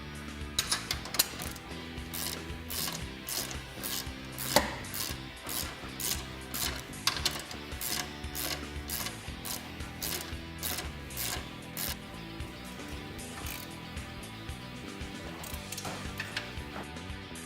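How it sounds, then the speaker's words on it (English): Hardware on a frame stiffener for a 2019 Polaris RZR 1000 is tightened with a 13mm socket and a 15mm wrench, producing continuous rapid ratchet clicks with a few sharper metallic clanks, close and moderately quiet. "fully tighten all the hardware using a 13mm socket and a 15mm wrench"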